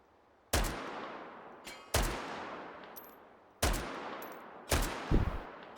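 Four loud, sharp AR18 rifle reports from the VR shooter Hot Dogs, Horseshoes and Hand Grenades, spaced a second or more apart, each trailing off in a long echoing decay.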